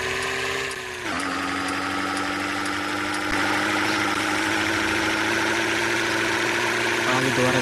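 A bus engine in the World Bus driving game hums steadily, then its pitch drops briefly before it climbs and holds a louder, rougher drone as the vehicle speeds up.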